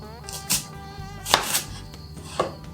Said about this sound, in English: Firstly, I'm going to slice the onions.